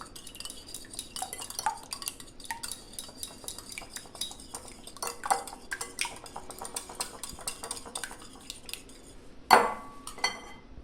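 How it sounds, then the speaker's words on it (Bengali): An egg is cracked and beaten in a bowl for an oven-free cake, with quick clinking strokes of a utensil against the bowl in irregular bursts, then a sharp louder knock near the end. "ডিমটাকে ভালো করে আগে আমি ফাটিয়ে নেব।"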